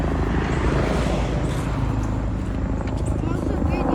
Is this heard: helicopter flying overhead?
yes